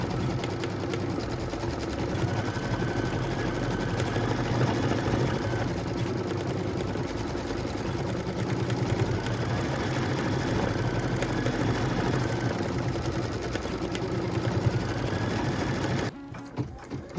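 A computerized sewing machine quilts a flowery pattern on a pieced block, its motor humming steadily and loudly with a fast stitching rattle for about sixteen seconds before stopping abruptly.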